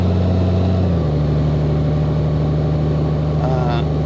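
Honda Gold Wing DCT motorcycle engine droning steadily while riding, with a continuous hum and wind rush. The pitch steps down once as the automatic transmission shifts gear.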